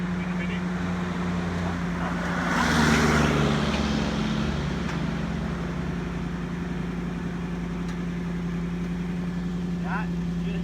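A Marcos Mantula sports car rolling back down a slope and picking up speed: a steady low engine hum with a brief swell near three seconds, under someone talking.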